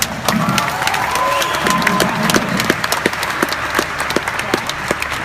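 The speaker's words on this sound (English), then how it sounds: "Can you give all of yourselves one big applause?" A large audience at a OneCoin corporate event applauds and cheers, dense clapping holding steady throughout with sharp individual claps standing out, loud and close, a few voices faintly mixed in.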